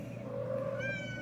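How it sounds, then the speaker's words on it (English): A cat gives a drawn-out, moderately faint meow indoors, rising and wavering, with no talking over it. "Oh, look at you, little kitties."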